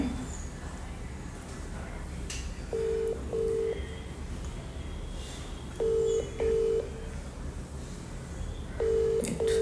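A phone call to someone in Dubai rings out as a repeating double-beep ringback tone, three paired bursts spaced a few seconds apart, clear but fairly quiet over a low background hum.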